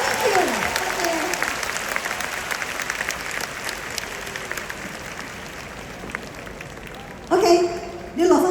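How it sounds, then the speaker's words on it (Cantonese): A concert audience gives a dense, sustained round of applause for a female singer at a Cantonese pop show. It thins slightly over several seconds and then gives way to someone speaking near the end. "俾啲掌聲俾阿姐啦。"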